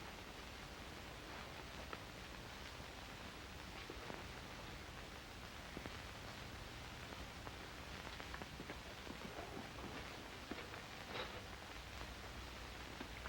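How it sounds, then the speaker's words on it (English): Steady rain falls outside in a black-and-white noir suspense film, a dense even hiss with scattered drips that holds at a constant level throughout, with no voices. "The rain ought to let up soon."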